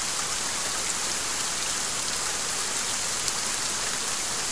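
Dense, even rain pours steadily in the video game Saurian, a constant hiss of drops on surfaces with no breaks or other sounds over it.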